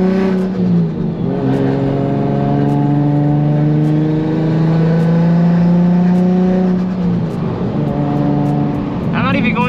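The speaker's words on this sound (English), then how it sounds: "Like the turbo flutter is so amazing" A turbocharged Nissan 350Z engine revs close and loud, its pitch climbing and falling through several sustained pulls, and a fluttering turbo chatter comes as the throttle lifts near the end.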